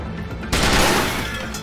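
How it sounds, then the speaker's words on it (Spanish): A short burst of gunfire from the SteamWorld Heist video game erupts after a brief lull, a loud rapid crackle of shots lasting about a second. "son dos disparos más"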